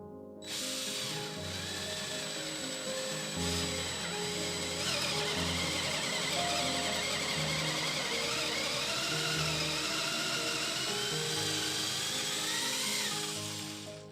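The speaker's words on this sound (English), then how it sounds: "it's time to drill into your wall" A power drill with a 3/8-inch bit whines steadily and drills into a wall for many seconds, close and loud with grinding bite as the bit works into the material.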